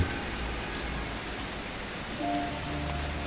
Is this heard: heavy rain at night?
yes